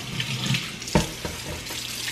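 Tap water running steadily into a sink while catfish are rinsed clean for frying, a close, continuous splash with a brief sharper burst of water midway and no talk.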